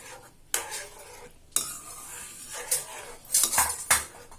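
Phirni payasam being stirred in a pot, a spoon scraping and clinking against the metal in several bursts, close and clear with no talk.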